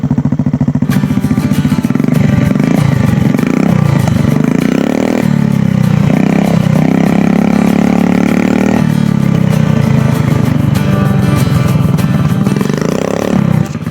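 A motorbike engine started after three months unused, running loudly close by with an uneven idle and several revs rising and falling, a metallic clatter over the exhaust note.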